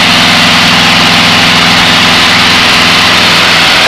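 Small training airplane engine throttled back to about 2400 RPM in level flight at 500 feet, a loud, steady drone with a low pulsing hum filling the whole clip without a break.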